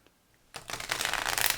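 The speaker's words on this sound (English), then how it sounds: "I'm shuffling." A deck of tarot cards being shuffled by hand, quiet at first, then a close, continuous riffling flutter for about a second.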